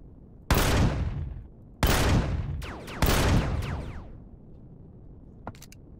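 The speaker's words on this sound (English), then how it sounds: "That turret just took 4 rounds to the face." Three loud turret gunfire bursts in Empyrion Galactic Survival, each a sharp crack with a ringing, decaying tail, spaced about a second apart, then a faint distant click near the end, no talking.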